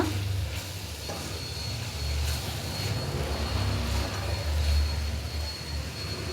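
Chicken liver pepper fry sizzling in a pan, a dense continuous crackle and hiss that holds steady throughout, with no voices over it.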